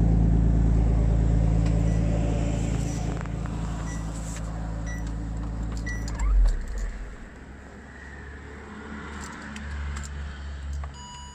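A Ford Falcon XR6T turbocharged six-cylinder engine idling normally, a steady low rumble close by that drops to a quieter, lighter hum partway through, with faint clicks over it and no talk.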